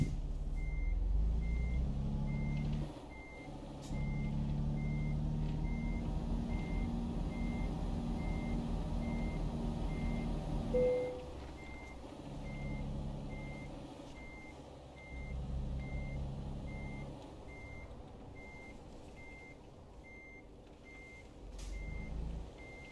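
A truck reverses a trailer in Euro Truck Simulator 2, with regular reversing beeps repeating steadily over a low engine rumble that rises and falls as it maneuvers.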